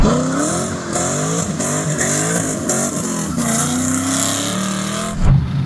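A Chevrolet Camaro SS hot rod with a worn transmission and old tires, stability control off, accelerating hard: the loud engine note climbs repeatedly through gears in rising sweeps, close and continuous, ending in a brief rumble.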